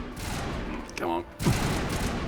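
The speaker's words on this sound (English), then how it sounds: "They'll happily keep shooting all day, hitting nothing." Continuous gunfire in a game, a dense rattle of shots heard close with a short break in the middle, while a voice briefly speaks over it.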